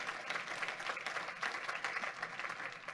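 Faint, steady applause from a church congregation, a dense wash of clapping heard from a distance and sustained for about three seconds.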